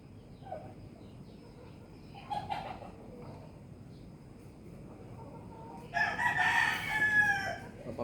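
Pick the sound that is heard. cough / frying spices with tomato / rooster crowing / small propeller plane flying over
rooster crowing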